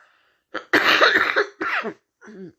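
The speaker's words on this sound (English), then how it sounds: "excuse me for coughing." A few harsh coughs close by, one short burst followed by a longer fit, then a softer throaty cough after a pause.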